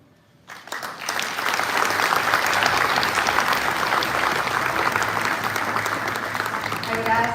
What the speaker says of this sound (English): I would ask that you continue clapping